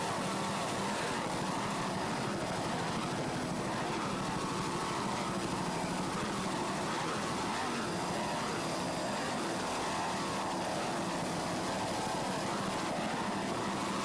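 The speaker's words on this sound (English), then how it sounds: "Just listen to those two 750 horsepower Boyd inboards." Twin 750 horsepower Boyd inboard engines on the Phantom Offshore powerboat roar steadily off Islamorada, Florida, a dense, unbroken, loud drone with no voices.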